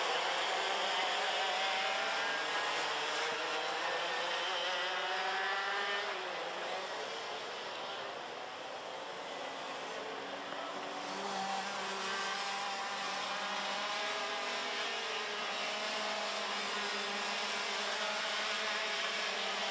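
X30 Senior racing karts on track at Ostricourt during a heat, a continuous loud drone of high-revving small engines with rising and falling pitch as karts pass, no talk.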